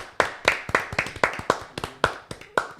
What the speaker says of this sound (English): round of applause for Teddy and the Bay Studios.